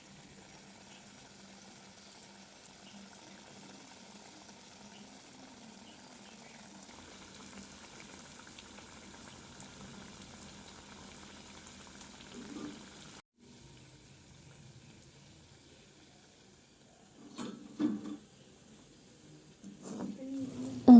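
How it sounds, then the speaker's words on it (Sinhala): Mung kavum coated in batter frying in hot oil give a faint, steady low sizzle throughout, with a few brief clatters and handling noises toward the end. "මුංගට කැවුම් ටික බැටර් එකේ තවරගෙන තෙලට දාලා ටික වෙලාවක් බැදගෙන"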